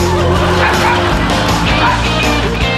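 A dog barks and yips excitedly in quick bursts, loud and close, mixed with whimpering, while a voice speaks over it.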